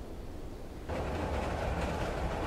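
A train suddenly roars into earshot on a railway track through a wetland, its broad rumbling rush of wheels on track filling the rest of the moment at steady loudness.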